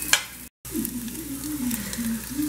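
Bacon fries in a pan with a steady, close sizzle and crackle that runs the whole time, broken only by a brief moment of silence.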